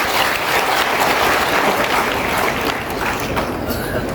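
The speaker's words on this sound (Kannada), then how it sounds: "ಅವರಿಗೆ ನಿಮ್ಮೆಲ್ಲರ ಪರವಾಗಿ ಒಂದು ಜೋರು ಚಪ್ಪಾಳೆ" A large crowd at a political rally in Channapatna breaks into loud, dense applause that holds steady and continuous, with faint voices mixed under the clapping.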